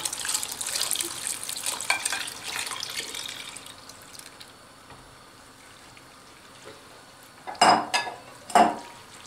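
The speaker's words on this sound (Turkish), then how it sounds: "Kaynamaya başlayan şerbetli suyumuzun içine nişastalı karışımımızdan ekliyoruz ve hızlı bir şekilde karıştırıyoruz" Starch mixture being stirred quickly into boiling sugar syrup for orange Turkish delight, giving a steady wet sloshing and clinking of a utensil against the pot, with two sharper louder scrapes near the end.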